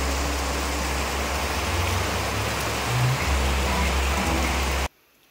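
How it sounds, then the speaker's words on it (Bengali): Heavy rain pours down in a steady, loud, close hiss with no voices, then cuts off abruptly just before the end. "প্রচুর বৃষ্টি হচ্ছে।"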